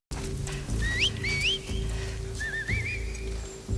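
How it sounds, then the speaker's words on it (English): Seraphite whistle signals in The Last of Us Part II: several rising, warbling human whistles, each about a second long, cut through a steady backdrop of rain and low rumble. Two calls come close together near the start and a fainter trilling one follows later. "the intimidating whistle communication of the Seraphites"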